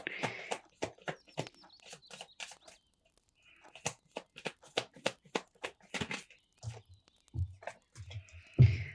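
A deck of tarot cards is shuffled up close in a quick series of crisp riffling and slapping bursts, with a brief pause midway before the shuffling resumes.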